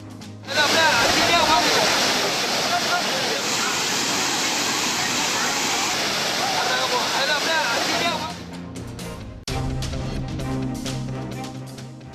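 Kumbakkarai waterfall, swollen after rain, gushes in a loud, dense roar for about eight seconds, then drops away as other sounds and a voice take over.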